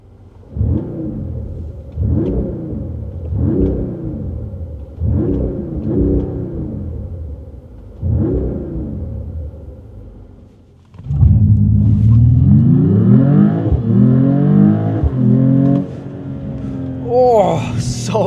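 A 2025 Mercedes-AMG E53 Edition 1 accelerates hard, its engine rising through several repeated surges before a long, loud pull with rising pitch, heard from inside the car.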